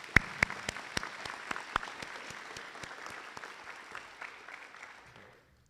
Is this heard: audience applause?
yes